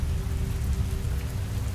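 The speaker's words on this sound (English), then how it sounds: "The rain began to fall lightly. A soft patter against the tent fabric." Light rain patters steadily on tent fabric close by. The dense, even drumming continues without a break and no voices are heard.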